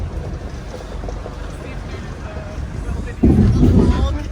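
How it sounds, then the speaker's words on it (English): Engine rumble and water noise from a crowded passenger boat under way, a steady low drone that grows louder and busier near the end, with wind in the background. "we're on the boat and we're moving"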